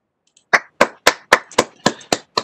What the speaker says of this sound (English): Clap my hands for all the students and all the presentations.